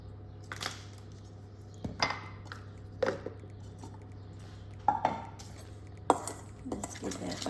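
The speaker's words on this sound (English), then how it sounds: "Let's give that a little bit of a stir" Metal spoon clinking and scraping against a bowl while stirring a baking mixture with sugar, a few sharp taps spaced a second or two apart over a low hum, close and moderately loud.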